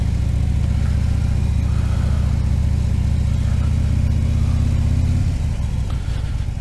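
A motorcycle rides through a parking lot on a mild January day, its engine giving a steady, close, low drone that eases off slightly toward the end.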